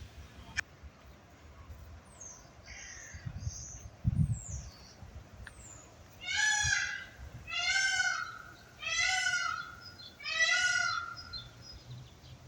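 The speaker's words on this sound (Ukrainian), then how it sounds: "Чуєте, як гуси гелготять?" Four loud, drawn-out bouts of honking cackles from geese, nearby and rhythmic, preceded by fainter calls and a low thump, over quiet outdoor background.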